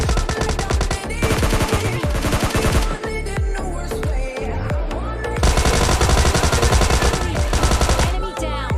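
Rapid bursts of S12K shotgun fire in a mobile battle game, loud and close, coming in quick successive volleys with brief gaps between them.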